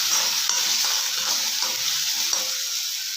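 Spicy macaroni pasta with turmeric is stirred in a hot pan, producing a continuous close hiss and sizzle with faint scraping movements, no speech.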